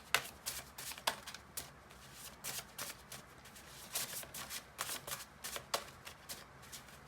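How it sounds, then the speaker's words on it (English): Tarot cards are shuffled in quick bursts of crisp riffling, repeated many times with short pauses between, close and fairly soft. "Got more cards to shuffle here."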